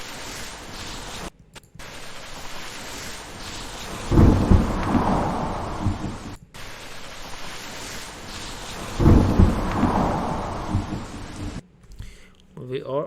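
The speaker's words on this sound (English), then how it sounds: "Thunder is a bit loud" Two long rumbling thunder rolls, each swelling loud and fading over several seconds, sit over steady rain hiss as part of a 3D scene's sound design, with a brief gap between them and a short different noise at the end.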